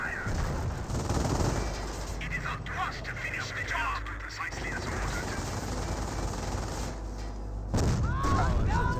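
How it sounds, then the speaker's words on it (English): Mortar barrage and small-arms gunfire in the Company of Heroes strategy game, a dense, continuous clatter of shots and booms with a swell of firing near the end, running under a commentator's voice. "the M2 looks like barraging the base"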